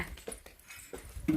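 A red dog whimpers and yelps in a few short, close bursts, with quiet gaps in between and no talk over it.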